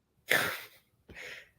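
A single sharp sneeze-like burst close to the microphone, followed by a second, softer breathy burst about a second later, in an otherwise quiet indoor setting.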